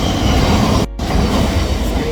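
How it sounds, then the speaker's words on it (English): Train rushing past at a station, a loud continuous roar of rolling wagons and rail noise filling the whole stretch, broken by one brief dropout. "Sorry, the train just went past."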